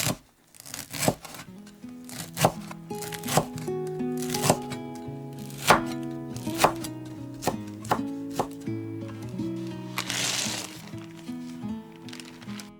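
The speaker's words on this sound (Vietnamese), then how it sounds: "Mình dùng khoảng 30g lá lốt, cắt nhuyễn ra như thế này." A knife finely chops lá lốt leaves on a board, with quick, irregular soft taps at close range beneath steady background music.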